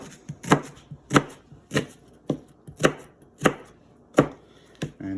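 A knife chops broccoli and other vegetables on a cutting board for cream of broccoli soup, with about eight sharp, evenly spaced cuts close by and no talking.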